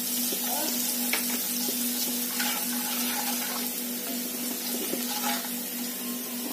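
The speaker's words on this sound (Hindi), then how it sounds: "अच्छे से सौते करेंगे, थोड़ा सा लाइट एकदम लाइट गोल्डन हो जाए।" Ingredients for macaroni sautéing in a pan until light golden, a steady close sizzle with soft stirring scrapes and a constant low hum beneath, no voices.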